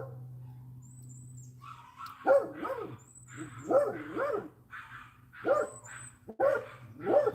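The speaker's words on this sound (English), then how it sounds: "but that was a lot of barking." A dog outside near a porch barks repeatedly, sharp bark bursts at moderate distance with short pauses between them, over a low steady background hum.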